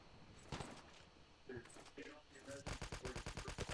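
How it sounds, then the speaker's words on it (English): Quiet gunfire in COD Mobile, with scattered single shots early on, then a rapid rhythmic machine-gun burst of evenly spaced shots near the end, while someone talks over it. "Just got shot by somebody"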